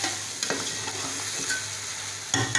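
Chicken pieces for chicken pulao fry in a pot while being stirred, a steady close sizzle broken by a few scraping clinks of the spoon against the pan.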